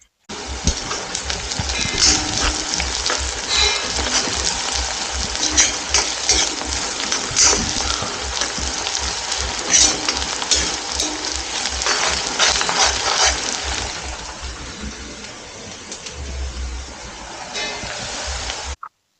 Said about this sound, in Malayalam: ആദ്യം കായത് വറുത്തെടുക്കാം